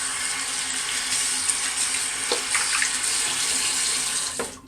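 Tap water runs steadily into a sink to rinse shaving cream off an arm, a close, continuous splashing rush with a couple of brief sharper splashes and no talk.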